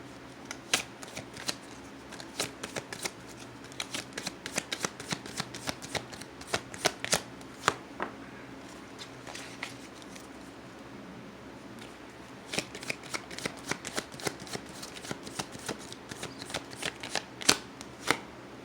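Tarot cards shuffled by hand in a steady run of crisp riffling flicks, close and clear, pausing briefly partway through before resuming, with no talking.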